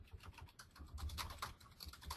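Quick, irregular tapping on a computer keyboard, a close, light clatter of keystrokes running continuously with no talk over it.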